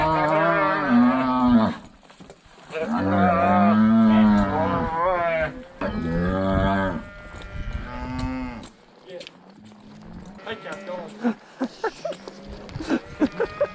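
Cattle being herded up a canyon trail to a mountaintop moo loudly and repeatedly in long, drawn-out calls that overlap, followed by quieter stretches with sharp, evenly spaced knocks near the end.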